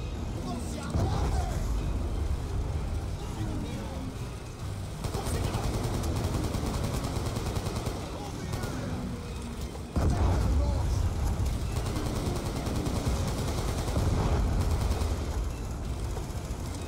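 Bursts of automatic gunfire from Call of Duty: Black Ops II roll on over a steady battlefield din, with louder surges every few seconds and talk running underneath.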